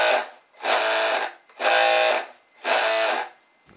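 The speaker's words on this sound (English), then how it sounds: "if I just want to use the right motor" An electric motor on an RC rescue recovery boat whines in three separate bursts of about a second each, with short pauses between them, close and fairly loud.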